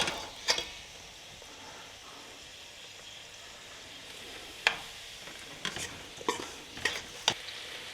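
Okra coated in cornmeal batter frying in hot oil, a faint continuous bubbling sizzle broken by several sharp clinks and taps of a utensil against the pot, with no talking.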